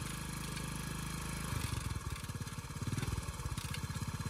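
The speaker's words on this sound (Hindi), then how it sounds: "रत्ता मोटरसाइकिल स्टार्ट नहीं हो रहा" A motorcycle with suspected clutch plate trouble fails to start, its engine sputtering into uneven chugging pulses over a steady outdoor hum, fairly close and moderately loud.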